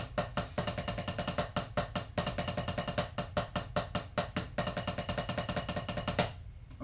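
Single strokes on a drum with sticks in French grip finger technique, played as a rapid, evenly spaced run of sharp close hits that stops abruptly near the end.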